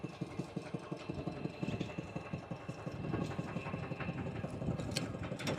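A farm tractor engine idling at close range, chugging in a steady, even rhythm of rapid low pulses, with a few faint clicks over the top and no voices.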